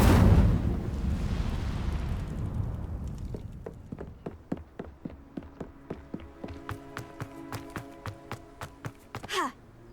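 A fire spell cast in a Hogwarts wizarding video game: a loud whooshing burst that fades over several seconds, followed by a run of sharp crackling taps and a brief flare near the end.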